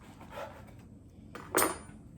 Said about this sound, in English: I slice it into a few slices, like so.